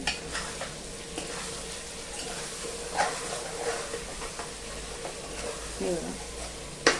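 Stuffed brinjal masala is stirred in a hot pan, a steady sizzling hiss with soft scraping strokes and occasional louder clatter, a brief voice-like tone rising near the end.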